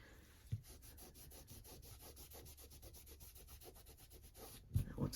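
A rhythmic series of quick rubbing strokes, about twenty back-and-forth swipes, as a cloth wipes ink off an embossed, stamped resist card. It is close and soft and steady, with a couple of light bumps at the start and end.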